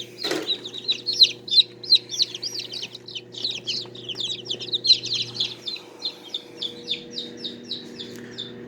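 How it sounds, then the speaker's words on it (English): A bantam chick peeps over and over, high thin cheeps in a steady rhythm, close and clear above a faint low hum. "we've got us a chick here"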